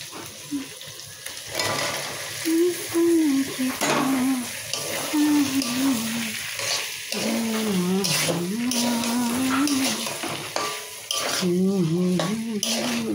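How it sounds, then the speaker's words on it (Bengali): Boiled potatoes and peas fry in spice masala for ghugni, a steady sizzle under repeated scraping and clinking of a spoon against the pan, with a voice talking over it. "এবার আমি আলু মটর সিদ্ধটা দিয়ে দেবো।"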